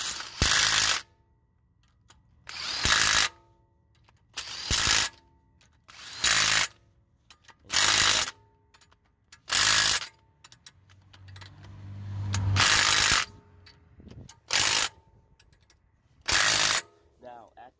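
An impact tool tightens lug bolts on a Mercedes E63s wheel in a series of about nine loud, close bursts, each roughly a second long, separated by short quiet gaps with faint handling noise.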